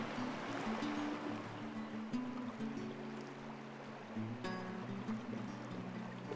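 River rapids flow around a canoe with a soft, steady gurgle and wash, faint and continuous, while low tonal hums and occasional knocks of the boat come through.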